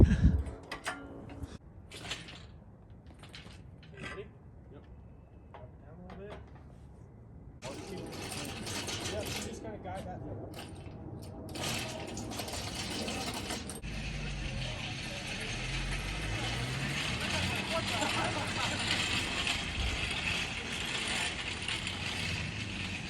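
A ratchet is worked on a jack during engine removal from a 2.7 EcoBoost F150, giving a run of quick mechanical clicks that soon settles into a steady, dense ratcheting churn, close and continuous.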